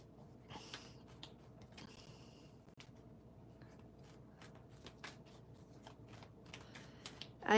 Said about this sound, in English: shuffling the cards because I just finished a few readings this morning